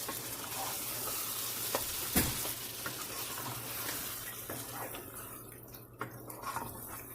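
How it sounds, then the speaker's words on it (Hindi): Mutton cooking in a karahi with yogurt, a steady close sizzle of frying with stirring scrapes and a sharp clank near the two-second mark, no talking. "तो अभी हम इसको थोड़ा सा और अच्छे से भून के, क्योंकि योगर्ट भी जो है वाटर छोड़ेगी।"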